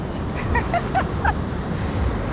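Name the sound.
ocean waves breaking on rocks at a surf beach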